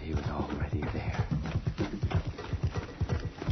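Running footsteps created as a sound effect for a radio drama pound in a steady, heavy clip-clop rhythm, loud and close, with a busy layered background.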